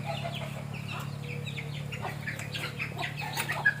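Chickens cluck and squawk in agitated bursts while chased by a dog, over a steady low hum, with a sharp cry near the end.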